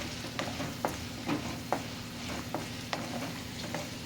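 Urad dal, chana dal, peanuts and cashews fry in a pan with a soft, steady sizzle. Periodic stirring clicks and scrapes of a spoon sound close by.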